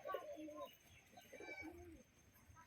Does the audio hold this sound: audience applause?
no